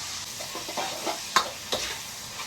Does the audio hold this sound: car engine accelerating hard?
no